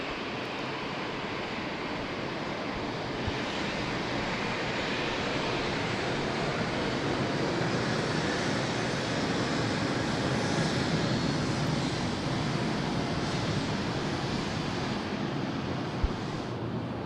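Airbus A330 taking off at Sydney Airport, its jet engines making a broad, sustained roar that holds steady and swells gently over many seconds, heard from some distance with no voices over it.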